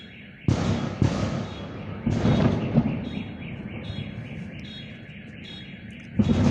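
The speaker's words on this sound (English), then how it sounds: "And explosions are still happening on the ground." Explosions on the ground in Kerch come as sudden heavy booms and rumbling blasts, a few sharp onsets followed by sustained low roaring, fairly faint and distant.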